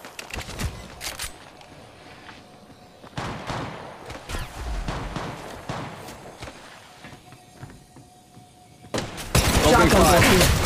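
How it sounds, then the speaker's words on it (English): Bursts of gunfire in the mobile video game Apex Legends Mobile: several sharp rapid volleys separated by quieter gaps with footsteps and character voice lines, ending in a loud sustained barrage. "Opening fire."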